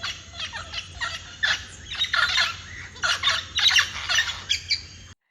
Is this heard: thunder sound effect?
no